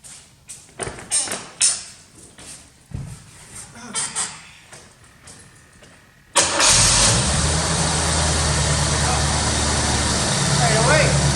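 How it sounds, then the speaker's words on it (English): An abandoned 1985 Corvette that sat for years cranks briefly, then the engine catches and settles into a loud, steady idle, with talk and tapping heard before it starts. "let's take a look and see if this thing will fire"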